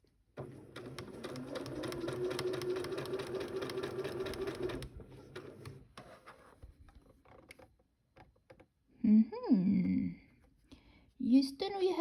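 A domestic sewing machine runs fast and steady for about four and a half seconds while stitching a top, then stops, and a voice speaks in short bursts afterward.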